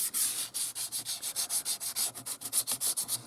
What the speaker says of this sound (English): Give it a wipe out with some meths or DNA, whichever part of the world you come from.